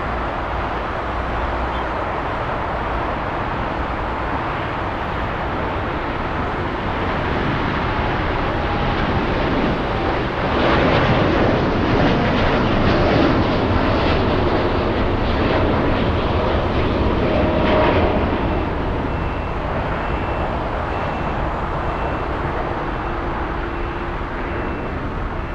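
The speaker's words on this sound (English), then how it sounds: "let's go for the 787 racing down the runway. United 32 flying to Narita" United Boeing 787 Dreamliner roaring down the runway on its takeoff roll at LAX, a loud sustained engine rumble with wind buffeting that swells in the middle and eases toward the end.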